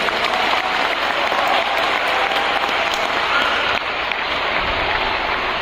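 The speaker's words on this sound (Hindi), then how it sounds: "तालियां बजाइए जोरदार से।" Loud, sustained applause from a comedy show audience fills the whole stretch, a dense continuous wash of clapping with no break.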